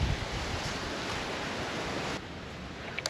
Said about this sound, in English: You guys can probably hear that wind.